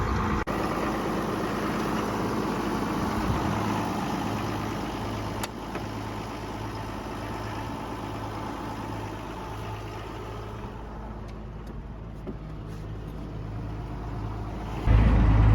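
A farm tractor fitted with a bucket and grapple extension idles steadily nearby, a low even engine drone holding for about fifteen seconds with a brief louder surge at the end.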